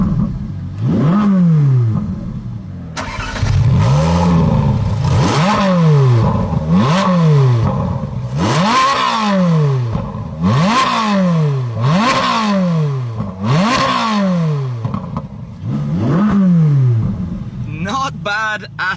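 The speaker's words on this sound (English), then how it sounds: "one of the highlights of this car is the naturally aspirated engine sound" A naturally aspirated car engine, heard close and loud, is revved again and again: about nine rising sweeps that each fall back to idle, with brief pauses between them.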